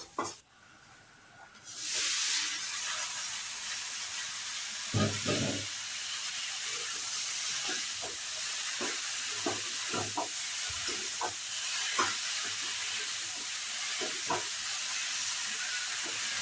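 Chopped taro frying in a pan, a steady loud sizzle and hiss with occasional stirring clicks and scrapes throughout, no talking.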